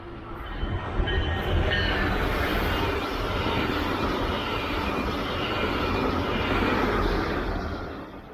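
A northbound Brightline passenger train rolls past steadily and loudly for the whole stretch, with broadband rail roar and some faint wheel squeal, fading slightly near the end.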